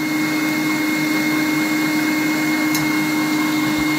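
A SilverCrest electric meat mincer runs with a steady motor drone and high whine, grinding meat in a continuous, even hum that stays loud and unbroken throughout with no talking.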